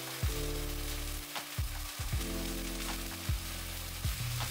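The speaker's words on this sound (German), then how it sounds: "Bratet alle Zutaten kurz an, bis die Ingwer-Knobi-Paste nicht mehr roh riecht." Ginger-garlic paste and chilis fry in hot oil for an Indian-style shakshuka, a steady close sizzle broken by several sharp scraping stirs, with no voices over it.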